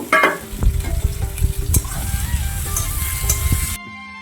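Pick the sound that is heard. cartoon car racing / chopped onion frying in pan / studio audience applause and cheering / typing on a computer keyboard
chopped onion frying in pan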